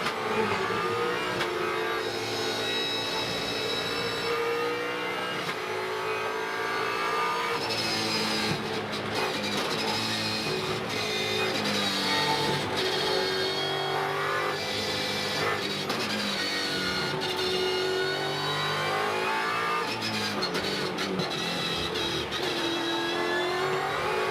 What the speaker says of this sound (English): Let's go on board now for this lap with Mark Winterbottom and have a close look at the back of the Jack Daniels Nissan Altima.